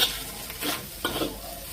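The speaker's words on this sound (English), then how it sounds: "Fry a bit more" Sardine fried rice stirred and frying in a pan, a steady close sizzle broken by a few scraping stirs of the spatula, with no voices.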